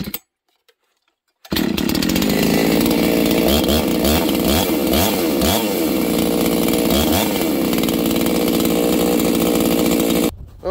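A ported Husqvarna 266xp chainsaw roars to life after a brief quiet start, running loud and close with rising and falling revs for about nine seconds before cutting off, near a bug-damaged spruce tree.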